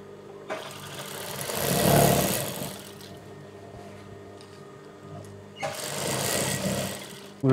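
A sewing machine stitches the lining of a churidar top in two bursts of steady mechanical whirring, close and moderately loud, with a quieter stretch between them and a short start at the very end.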